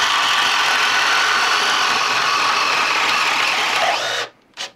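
A Makita drill bores a hole with a bit in a speed test, a loud, steady, high whirring drone for about four seconds that cuts off abruptly, followed by a brief quiet rattle.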